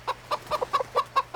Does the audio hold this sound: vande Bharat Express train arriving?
no